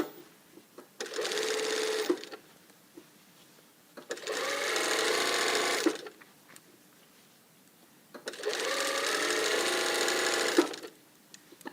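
Sewing machine stitching a blazer lapel in three sustained runs of steady motor whir, each about two seconds long, separated by short quiet pauses with faint handling noises.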